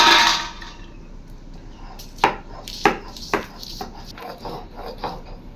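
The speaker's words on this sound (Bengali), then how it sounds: "এখন বাটবো রসুন, লঙ্কাগুলো একটু ভিজাই দিই" Stone-on-stone knocking and scraping as garlic is ground on a traditional grinding stone, with a rough rub at the start and then a series of sharp taps and scrapes at irregular intervals, close by with no voices.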